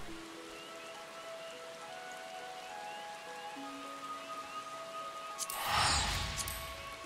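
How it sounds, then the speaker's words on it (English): Steady video game rain patters on a surface, a soft continuous hiss that swells into a louder, brief rush near the end. "Nope, it's raining here, too."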